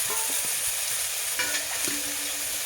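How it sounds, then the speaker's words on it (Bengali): Mung dal frying in a pan on the stove, a continuous bright sizzle with intermittent scraping and stirring knocks close by, no voices. "দিয়ে আমি ডালটা একটু ভেজে দেবো"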